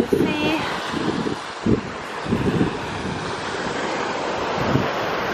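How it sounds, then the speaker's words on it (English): Sea waves wash up on the beach at Kamari, Santorini, in repeated soft rushing surges under constant wind buffeting the microphone, with a voice heard briefly at the start. "So we're by the sea."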